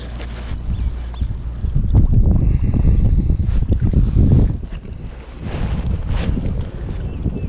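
Wind buffeting a kayak out on the water while fishing near a tree, a steady rough rush of gusts and microphone buffeting that swells louder in the middle and eases toward the end, with no talking.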